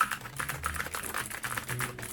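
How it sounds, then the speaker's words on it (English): Rapid, continuous typing on a Machenike K600 mechanical keyboard with blue switches, a dense run of loud, hard, clicky keystrokes close to the microphone with no voices. "As you see just now, I typing for the word per minute, the speed."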